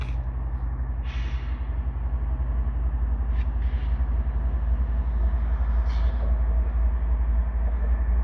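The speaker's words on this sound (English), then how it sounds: "Looks like it's got a KCS locomotive second in line there." A CPKC freight train led with a KCS ES44 locomotive second in line rolls past the Dorval ramps in a steady, loud rumble of wheels and engines, with faint clicks of rail joints throughout.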